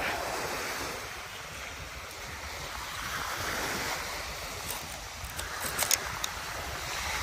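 Sea waves wash in and recede at Dolomite Beach in slow surges, with wind buffeting the microphone and a few faint knocks near the end.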